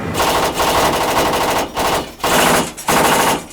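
A 7.62 mm PKT tank machine gun fires from the combat module of a BTR-4 armoured personnel carrier in four long, loud bursts of rapid automatic fire separated by brief pauses.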